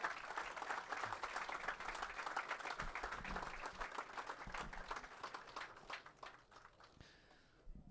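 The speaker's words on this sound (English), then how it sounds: "can I please get one round of applause for our sponsors?" An audience applauds at an event honoring Fazal Virani, a steady burst of clapping from many hands that fills the room at even loudness and begins to thin toward the end.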